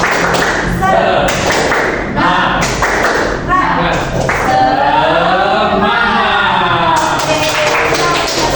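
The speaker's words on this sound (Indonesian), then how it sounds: "mari kita praktekkan tepuk semangat" Classroom of children doing tepuk semangat, a rhythmic group clapping chant, with sharp sets of claps in a patterned beat mixed with children's chanting voices, loud and close.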